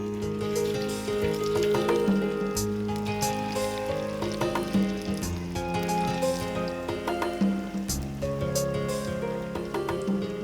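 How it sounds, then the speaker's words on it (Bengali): Winter vegetable chops deep-fry in a wok of hot oil, giving a steady, dense bubbling sizzle that runs continuously and fairly loud, with no talking. "চপ তো তাই ভাজা হচ্ছে ডুবো তেলে"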